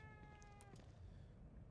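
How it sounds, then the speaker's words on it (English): A cat meows once with a drawn-out tonal cry inside The Evil Within 2, followed by a few faint soft clicks over a low steady game ambience. "Excellent kitty cat."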